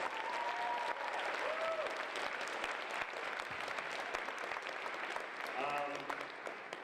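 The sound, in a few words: applause for the college music program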